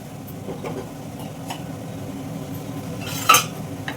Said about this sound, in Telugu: గిన్నెలు ఇలా కలుపుతుంటే, కూరలు కలుపుతుంటే సౌండ్ రాకుండా ఉండాలంటే ఇలాంటి స్పూన్స్ తీసుకోవాలి